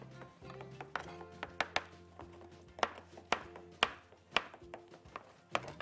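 A knife cuts through tomato on a cutting board in a run of crisp, irregular taps and thuds, close and fairly quiet, with a faint steady hum underneath and no talk.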